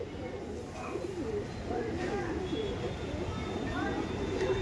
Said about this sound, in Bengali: দেখুন নর মাদি দেখতে পাচ্ছেন, যার মধ্যে এটা ছিল মাদি পায়রা